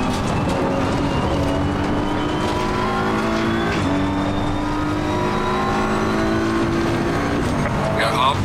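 Porsche race cars run laps on the Nürburgring Nordschleife, engines droning loud and steady with rising and falling pitch as they accelerate, with talk faintly in the background.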